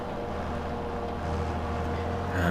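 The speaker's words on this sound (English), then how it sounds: "And the tractor doesn't seem to be struggling at all." A tractor engine hums as it drives around a grass field headland in Farming Simulator 22, a steady low drone that stays even throughout and rises slightly at the end, with no voices.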